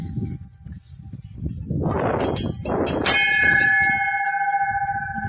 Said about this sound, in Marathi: ही बघा बेल